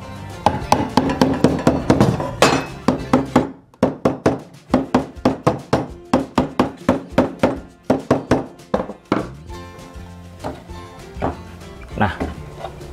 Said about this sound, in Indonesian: kita tinggal ketok saja menggunakan palu seperti ini.